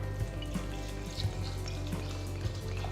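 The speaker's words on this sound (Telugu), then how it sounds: "దీన్ని శుభ్రంగా కడిగిన తర్వాత నీళ్లలో ఒక ముప్పై నిమిషాల పాటు నానపెట్టాలి" Basmati rice being rinsed in water, heard as a steady wash of running and sloshing water with a low background hum and a few soft knocks, with no talking.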